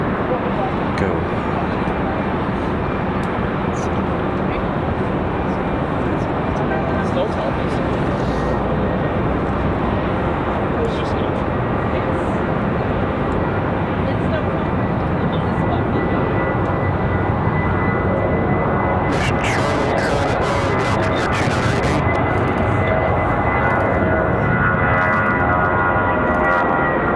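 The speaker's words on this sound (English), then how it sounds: "It's A319 ready to go." An Airbus A319 airliner departs at Raleigh-Durham airport, its engines a steady broad roar heard from a distance for the whole stretch, with a brief burst of sharper noise near the end.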